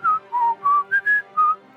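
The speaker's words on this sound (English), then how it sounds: "I'm going to say it's the Old Spice whistle." The Old Spice commercial jingle whistled as a short melodic tune: six clear, bright whistled notes in a steady rhythm, close and alone with no talking.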